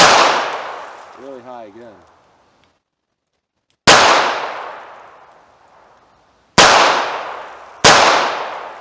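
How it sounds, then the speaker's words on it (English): Three loud, sharp revolver shots ring out at a 5-yard target practice, each a separate crack with a long decaying tail, spaced a few seconds apart, following a brief spoken remark at the start. "It's been a while since I shot this gun."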